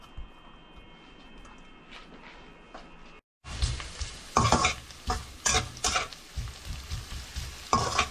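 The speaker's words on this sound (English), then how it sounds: "just fry it until it turns a little golden brown" Garlic frying in about two tablespoons of oil in a pot, a steady sizzle that bursts louder after a brief pause, with stirring scrapes and crackles close up and no talking.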